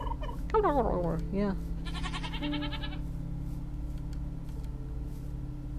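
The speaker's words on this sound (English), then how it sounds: "Turkeys." A turkey in a video game gobbles in a quick warbling burst, followed by a brief bleating call, over steady background game ambience; a voice speaks a single word.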